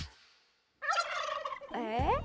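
A live turkey gobbles in two bursts of loud, rapid, warbling calls after a short silence, close and clear, with no talk over it.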